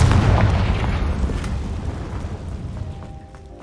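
Confringo spell explosion in Hogwarts Legacy, a loud deep boom at the start that rolls into a long rumbling decay and fades over a few seconds.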